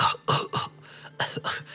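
A person fakes a run of harsh coughs in Baizhu cosplay: about five sharp, close coughs in two quick clusters separated by a short pause.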